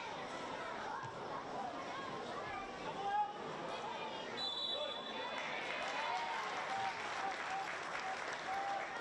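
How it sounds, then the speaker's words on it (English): Stadium crowd applauding a set piece by the Newcastle Jets in an A-League match against Perth Glory, sustained clapping mixed with crowd chatter and murmur, swelling slightly in the second half. "Crowd appreciating that set piece for the Jets."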